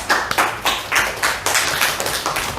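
A classroom of students claps in a rhythmic, patterned beat for a classmate about to tell a story, close and loud, a few sharp group claps in quick succession.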